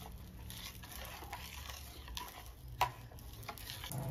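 A spoon stirs salt into amla tambuli, a thin gooseberry and liquid mixture, giving soft, faint, irregular scraping and swishing with a few sharper clicks against the bowl.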